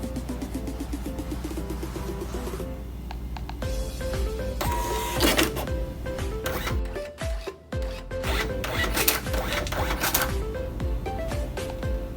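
A receipt printer linked to a Silom POS system prints an order, whirring and rasping steadily for several seconds with a busy mechanical buzz and small shifts in pitch, loud and close with no voices.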